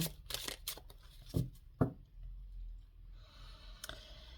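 A deck of tarot cards being shuffled and handled during a card reading: a few quick riffling and slapping bursts, then soft clicks and brushing, close and fairly quiet with no talking.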